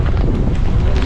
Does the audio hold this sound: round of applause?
no